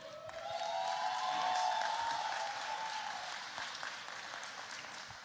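A room full of people applauds at a middle school graduation ceremony, a dense clatter of clapping that swells quickly and then slowly fades.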